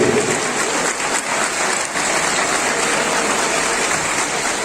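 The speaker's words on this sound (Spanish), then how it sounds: "recibimos con un fuerte aplauso el Grupo Cultural Bugoday de la Universidad Autónoma de Chiriquí, Extensión de Boquete" Loud, dense applause from an audience welcoming the Bugoday cultural dance group of the Universidad Autónoma de Chiriquí in Boquete, steady and continuous with no speech over it.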